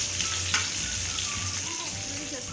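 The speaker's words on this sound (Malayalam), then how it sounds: "ഇനി ഈ ബേക്ക് ചെയ്ത പൊട്ടാറ്റോസ് നമ്മൾ പാനിൽ ആഡ് ചെയ്യാൻ പോവുകയാണ്." Baked potatoes fry in melted butter in a pan for a spicy sauced potato dish, giving a steady close sizzle with faint stirring and scraping and no talking.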